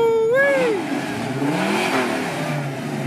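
A Ford GT Mk IV race car engine revs sharply once, its pitch sweeping up and falling away, then settles into a rumbling idle with smaller pitch swells.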